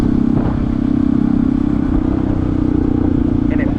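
A Honda CT125 motorcycle with a 142cc big-bore engine pulls hard in third gear, its loud, steady exhaust drone continuous and close throughout with a faint rattle on top.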